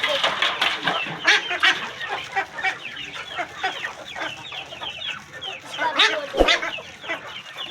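Ducks kept as pets squawk and quack loudly in a rapid, overlapping chorus close by, with occasional sharper cries.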